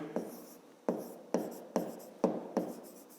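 Pen strokes on paper during a 5th-grade math exercise, six short scratchy bursts at a steady rhythm, close and fairly quiet, with no voices.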